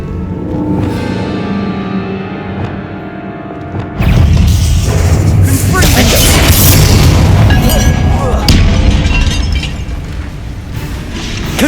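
Spell blast in Hogwarts Legacy as Confringo is cast, a loud booming burst landing midway and swelling into a long rumbling, crackling wash over dense game noise and effects.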